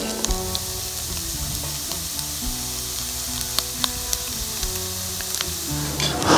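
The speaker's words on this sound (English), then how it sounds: "So we're going to fry these potatoes for 15 or 20 minutes" Smashed potatoes fry in a pan at a campsite with a steady, close sizzle throughout, broken by a few sharp crackles and pops.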